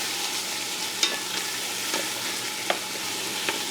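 Shallot frying in a pan, a continuous bright sizzle with occasional soft stirring clicks, close and steady, with no talk.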